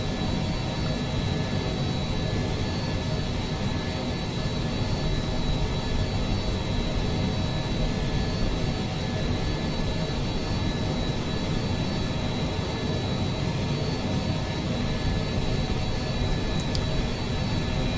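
A McDonnell Douglas MD-11's jet engines whir as a continuous, loud, steady roar with a faint high whine, unbroken throughout, inside Microsoft Flight Simulator 2020.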